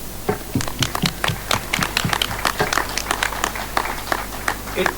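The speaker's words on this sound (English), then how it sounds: "that deserves a round of applause for all of you" A small group of camp participants gives a round of applause, many hands clapping in a dense, lively patter that runs steadily throughout at moderate volume over a low background hum.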